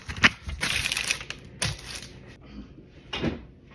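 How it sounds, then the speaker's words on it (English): Parchment paper crumpled by hand in a home kitchen while preparing sourdough, giving a few short bursts of crackling, near and fairly loud, separated by quieter pauses. "the trick for parchment paper is to crumple it up"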